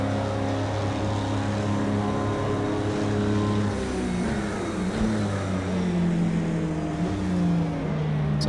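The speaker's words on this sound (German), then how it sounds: "Das ist halt natürlich jetzt kein weltbewegender Klang beim Diesel" The Audi R18 diesel race car engine at Le Mans in the Project CARS 2 video game drones loudly and steadily, its pitch sliding up and down with shifts as the car runs along, with no talk over it.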